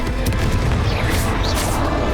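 Bombarda spell explosions in Hogwarts Legacy on Nintendo Switch, a loud, dense booming blast with rumbling low end and crackling bursts layered over it, close and continuous, with a voice calling out spells.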